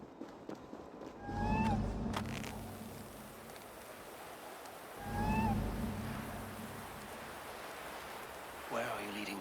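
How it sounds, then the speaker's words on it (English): Small cat in Assassin's Creed Valhalla, Asgard, giving two short rising meows a few seconds apart over game ambience and low rumbling footsteps, with a rustle near the end. "Who put you up here, little cat?"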